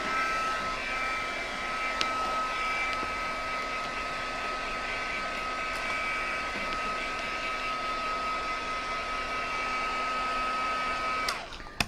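A dryer blows hot air over an art journal page in a steady, loud, unbroken whir that runs for about eleven seconds before it cuts off abruptly.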